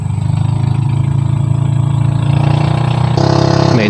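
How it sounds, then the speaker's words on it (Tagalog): A steady motorboat engine drones continuously out on the water, a throbbing mid-low hum that shifts slightly in pitch near the end, with no talk over it. "May dumang bangka pero malayo, maingay lang siya."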